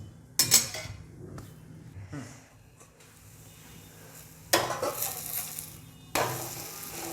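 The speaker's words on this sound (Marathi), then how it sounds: "थोडं वरतून तेल लावून घेऊयात, म्हणजे ते छान फ्राय होतं आणि खरपूस असे होतात" Sprouted moong dhirde fry in oil in a pan, sizzling steadily and quietly, with sharper bursts of crackle and the clatter of a utensil against the pan at intervals.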